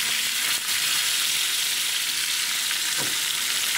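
Thin pieces of rohu fish fry in hot oil, a dense, steady sizzle and crackle filling the whole span, close and loud, with a faint clink of a utensil partway through.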